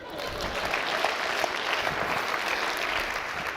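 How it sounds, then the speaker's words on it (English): Audience at a talk on digital companies and AI applauds steadily, a dense even wash of clapping that holds for several seconds without a break. "Let's give her a round of applause."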